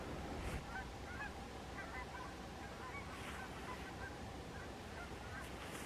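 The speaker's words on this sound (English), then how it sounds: "Geese flying over." Faint geese honking as they fly over in the distance, over a steady outdoor hiss, a few scattered calls spread out across several seconds.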